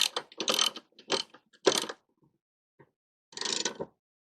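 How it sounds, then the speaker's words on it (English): Ratchet wrench tightening the blade adapter bolt on a Ryobi lawn mower, several quick bursts of close, crisp clicking separated by short pauses, with no speech. "what I'm going to do is just tighten it down to what I think is a reasonable amount"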